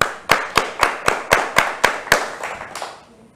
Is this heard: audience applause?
yes